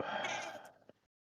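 A person's voice mimics a baby goat's bleat, a short wavering nasal cry that fades out within about a second, close and fairly quiet.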